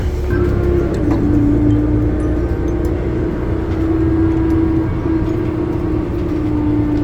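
Inside a moving DC Circulator bus, a steady loud engine rumble and road noise continue throughout, with faint rattles and no talk.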